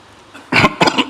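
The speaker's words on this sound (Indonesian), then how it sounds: "Udah batuk-batuk." A few sharp, harsh coughs close by, coming in quick bursts after a brief quiet moment.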